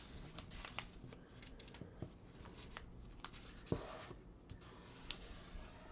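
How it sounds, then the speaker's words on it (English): Soft paper rustles and crisp creasing strokes come and go as a sheet is folded into an origami spear, close and quiet with scattered sharper scrapes and taps and no talking. "And I'll crease that down."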